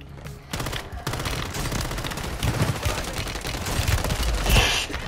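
Rapid, loud bursts of AMR9 submachine gun fire in Warzone 3, with repeated fusillades and a heavier spike near the end, dense and continuous through the whole stretch.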